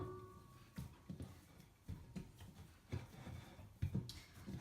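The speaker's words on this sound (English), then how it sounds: "de-dough my hands. So I find just rubbing them together usually gets it all off pretty much" Hands rubbing together to shed sticky strudel dough, giving soft dry scuffing strokes in irregular bursts, close and fairly quiet with no talk.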